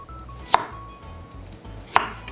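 A knife cuts a carrot into large chunks on a cutting board, with two sharp, loud chops about one and a half seconds apart over quiet background hum and no talking.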